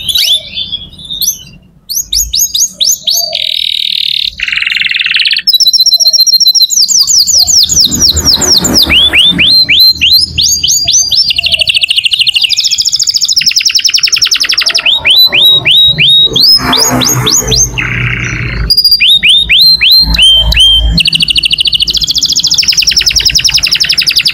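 A canary sings loudly and continuously, long rapid trills and chirping runs with sweeping whistles, close and bright with no talking.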